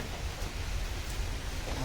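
A brief wash of steady heavy monsoon rain in Chiplun, a dense hiss with low rumbling underneath, constant and fairly close.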